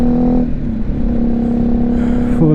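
A BMW G310GS single-cylinder motorcycle with a loud Remus aftermarket exhaust, its engine droning steadily up close with a brief rise in revs near the end, mixed with wind noise.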